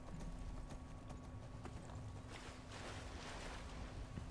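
Horse hooves clip-clop steadily on the ground in Skyrim, a close, even rhythm of hoofbeats running throughout over a light windy background.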